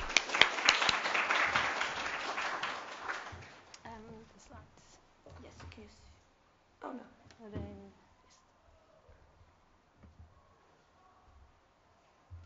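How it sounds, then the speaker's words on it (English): An audience at a seminar applauds in a dense burst of clapping that fades over about three seconds. Scattered quiet sounds follow, including a dog-like whimper, and the room then falls mostly silent. "a big warm round of applause to Sally Longworth"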